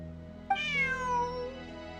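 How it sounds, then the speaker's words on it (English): A single cat meows in Genshin Impact, one clear rising-then-falling call lasting about a second over quiet background music, close and distinct with no talking. "Bonnie is Pierre's cat."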